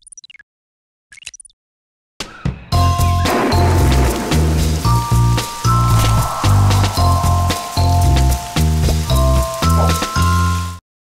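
Steady rain in an educational science game patters loudly and continuously, mixed with tonal music notes, after a couple of brief quiet taps at the start.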